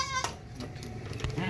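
A goat bleats while giving birth, a short strained cry with harmonic wavering at the start, then faint rustling and shuffling around it at close range.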